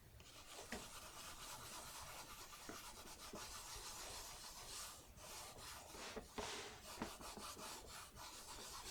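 Steady scratchy rubbing as grease is worked into a leather boot upper to hide scratch marks, a continuous close hiss of friction with a few sharper scuffs and taps.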